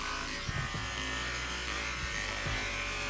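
Electric clippers buzz steadily while shaving a dog's coat matted to the skin, a constant close drone with a few soft knocks and handling bumps underneath.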